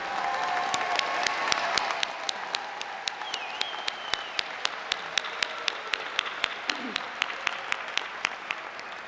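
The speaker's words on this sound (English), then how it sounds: "let's give one final round of applause to thank your family, friends, faculty, and the university staff who have supported you" A crowd at a university business college graduation ceremony applauds in a full, sustained round, joined partway through by a slow, loud, evenly spaced clapping beat that keeps going to the end.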